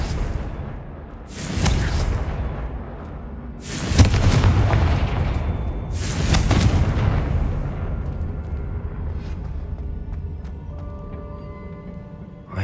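Spell explosions from a Confringo cast in the Hogwarts Legacy video game, three loud booming blasts spaced about two seconds apart, each with a sharp crack and a long rumbling tail, fading into quieter game ambience.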